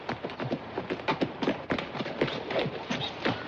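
A horse trots with rapid, fairly close clip-clop hoofbeats in a quick even rhythm, with no voices.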